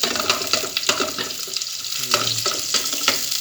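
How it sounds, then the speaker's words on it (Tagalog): Sautéing in a pan: onions for a mekus mekus dish sizzle and sputter as they are stirred and scraped, with irregular clatter and bursts throughout. "Gisa natin muna."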